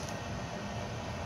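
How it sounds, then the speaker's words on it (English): A Walthers GE ES44 model locomotive pulls a string of boxcars along the track, giving a steady, continuous rumbling hum that holds at an even level throughout with no voices. "run the train for a minute, show you guys the whole thing"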